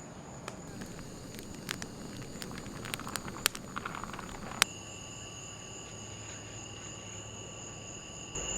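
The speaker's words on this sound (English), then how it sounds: "They got these bull crickets here that just don't stop." Bull crickets chirp high in humid forest trees at a hot-weather yurt campsite, a steady faint insect drone with scattered crackles and clicks, distant and continuous without talk.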